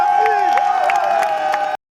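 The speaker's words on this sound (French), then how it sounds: "Et je voudrais que vous vous applaudissez très fort" A crowd cheers and applauds loudly, with sustained horn-like tones and whoops over the clapping, then cuts off abruptly just before two seconds.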